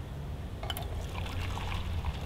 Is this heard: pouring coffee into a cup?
yes